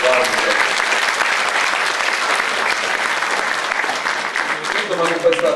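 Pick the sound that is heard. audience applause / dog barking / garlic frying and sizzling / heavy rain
audience applause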